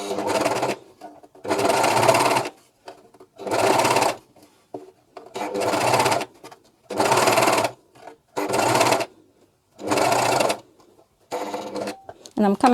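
A Juki MCS-1500 coverstitch machine stitches a pocket in eight loud bursts of rapid whirring, separated by short near-silent pauses, heard up close with no talk.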